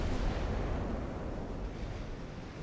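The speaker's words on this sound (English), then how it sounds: "All 12 guns firing." A 12-gun naval broadside fires in Ultimate Admiral Dreadnoughts, one loud, continuous rumbling roar of heavy guns that stays strong across the whole moment and slowly tails off, with no voices.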